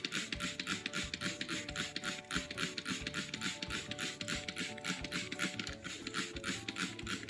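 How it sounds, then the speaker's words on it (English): A handheld spray bottle mists water over tomato seedlings in a seed-starting tray, giving a fast, steady train of short hissing squirts repeated for several seconds, close and fairly soft. "Then we're just gonna spray them."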